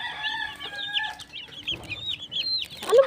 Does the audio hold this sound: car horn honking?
no